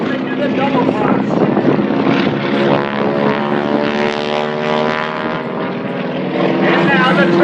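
Propeller aerobatic planes at an air show sweep through a double cross maneuver, a loud, continuous engine drone with shifting pitch, overlapping a commentator's voice on the public address.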